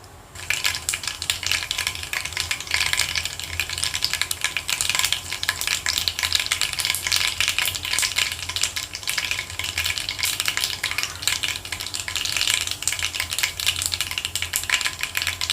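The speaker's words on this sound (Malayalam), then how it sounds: "എണ്ണ ചൂടായി കഴിയുമ്പോൾ 1 സ്പൂൺ കടുകിടാം." Mustard seeds splutter in five tablespoons of hot oil for a garlic pickle, a dense, continuous crackling and popping that stays fairly loud and close throughout, with no voices.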